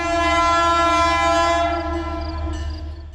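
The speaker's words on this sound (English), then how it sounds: "Here, Metro North train 1897 eases to a stop at a spot that's become very familiar to me, the Merritt 7 train station." Metro North train 1897 sounds a strong, steady horn while easing to a stop at Merritt 7 station, the blast fading and breaking off toward the end over a low rail rumble.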